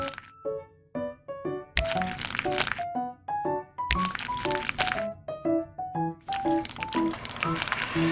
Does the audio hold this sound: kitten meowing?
no